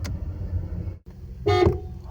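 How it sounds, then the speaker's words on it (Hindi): A Renault Triber RXZ 2024 gives a brief car horn toot, a short bright honk after a low engine hum, close and clear. "हॉर्न,"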